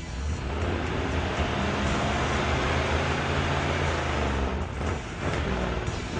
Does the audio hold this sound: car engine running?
yes